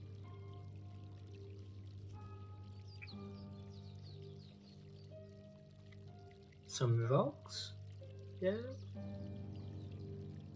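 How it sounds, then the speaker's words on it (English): River water flows steadily through the Riverside Forest in Digimon Survive, a soft continuous wash beneath game music, with a person talking briefly over it. "Nice flowing water."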